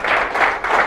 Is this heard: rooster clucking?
no